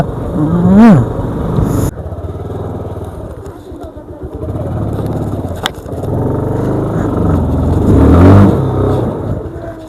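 A stuck motorbike engine revving hard, a loud rising and falling roar held over several seconds, with people shouting nearby.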